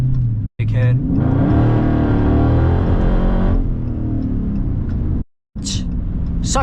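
A widebody Dodge Scat Pack engine roars and climbs in revs as it accelerates on a rainy road, a loud rising growl inside the cabin, with someone talking at the start and end.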